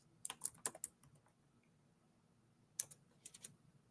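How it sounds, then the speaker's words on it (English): Quick bursts of typing on a computer keyboard, a cluster of sharp key clicks followed by a pause and then a second short flurry, close and fairly quiet with no talking. "Let me type it in."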